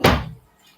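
A door swung shut indoors with a single solid thunk, loud and close, fading quickly into quiet.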